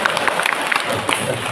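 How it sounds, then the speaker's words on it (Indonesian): Audience at a monthly Islamic religious gathering breaking into brief applause, a dense burst of clapping from a crowd, fairly loud and close, lasting only a moment. "Tepuk tangan."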